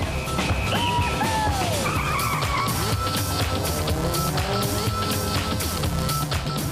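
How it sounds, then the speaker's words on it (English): Souped-up cars roar down a quarter-mile drag strip at Crail Raceway in Scotland, engines revving and whining with rising and falling pitch, tires squealing, loud and close with a constant crowd-like background wash. "Racing in pairs, it's a souped-up shootout against the clock and each other."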